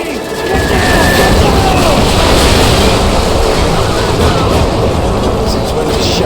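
Artillery strike in Call of Duty Modern Warfare: a dense, continuous roar of explosions and rumbling blasts filling the whole stretch, loud and sustained, with faint voices underneath.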